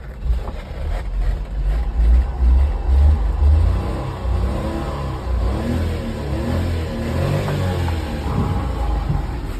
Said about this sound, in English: Let me give it some revs.